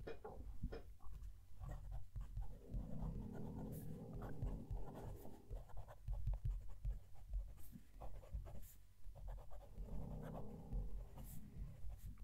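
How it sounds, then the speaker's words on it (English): A Fuliwen 017 Chinese fountain pen scratches softly across slightly textured paper as a sentence is written, a close, faint, continuous scritching with small strokes and pauses. "Going to move the mic down to the page and write a sentence."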